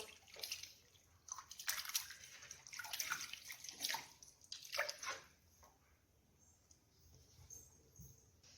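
Wet splashing and squelching as pieces of goat head meat are rubbed and swished in water, in several bursts, then quieter dripping and faint handling.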